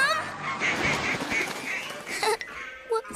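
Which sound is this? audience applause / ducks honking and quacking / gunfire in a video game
ducks honking and quacking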